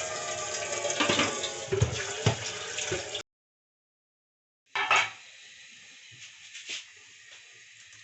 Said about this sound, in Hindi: पतीले को दोबारा धो लेंगे थोड़ी सी।